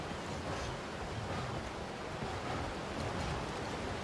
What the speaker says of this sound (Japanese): 滝だ。